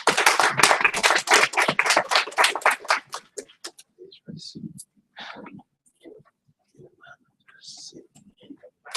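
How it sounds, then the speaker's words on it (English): Audience at a Liberian diaspora conference claps for about three seconds in a loud, dense burst, then the applause fades quickly to scattered taps and faint murmuring. "Please give them a hand of applause."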